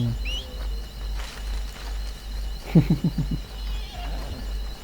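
Horse whinnying while being ridden in the video game Red Dead Redemption 2: one clear, close whinny in a quick series of pulses, heard over faint crickets and a low ambient hum.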